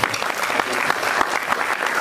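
Dense audience applause at a Marathi scholarship award ceremony for needy students, steady many-handed clapping filling the whole stretch with no break.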